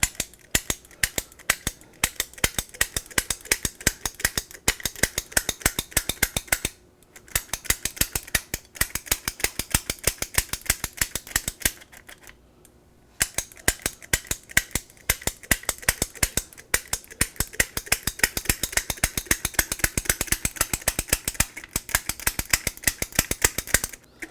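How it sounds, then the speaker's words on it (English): A pastry gun's ratcheting trigger clicks rapidly and repeatedly as boudin mixture is piped onto a king cake, with a brief pause midway and one near the middle. "my Boudin mixture, packed in one of these guns here. This is a pastry gun"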